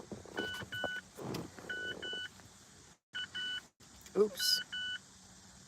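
A car chimes warning beeps with a door open, repeated pairs of short electronic tones at a steady rhythm, while someone speaks briefly over them.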